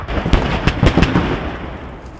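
A BTR armored vehicle blowing up in a tactical shooter game, a loud cluster of sharp blasts and cracks in quick succession, fading into a rumbling decay over about two seconds.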